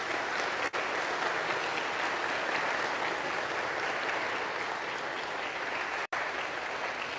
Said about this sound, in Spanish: Un aplauso para los padres de familia.